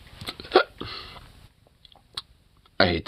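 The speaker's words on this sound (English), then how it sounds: "Oh, I'm getting an ambush of hiccups." Repeated hiccups jolt out in irregular bursts, a few sharp loud ones with quieter catches and breaths between, close to the microphone.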